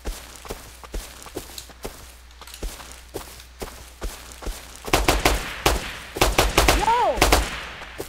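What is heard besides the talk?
gunfire from shooting in the video game Rust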